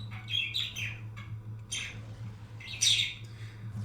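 A pet bird chirps indoors in several short, bright bursts with pauses between them, fairly close but quiet, over a steady low electrical hum.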